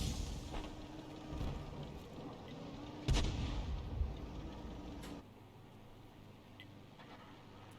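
A tank cannon fires in a video game, one sharp heavy boom landing mid-clip over a low rumbling engine bed. Fainter thuds and clanks follow before the background drops quieter, and nobody speaks.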